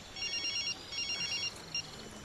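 Indoors, a house telephone rings in two short electronic bursts, then gives a brief third chirp, fairly faint against a quiet room with no talking.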